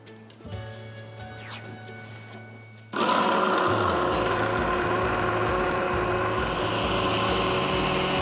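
A food processor starts up and runs loudly and steadily, chopping tomato, cucumber, onion and garlic, after a few quieter clicks and hums; the whirring motor and churning blades continue without pause.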